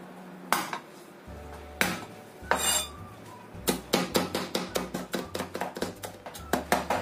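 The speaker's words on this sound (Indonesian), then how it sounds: "Ini kita cincang halus dulu ya bawang putihnya." A knife chops three garlic cloves finely on a cutting board, beginning with a few separate hard knocks and then settling into a quick, even run of close, sharp taps.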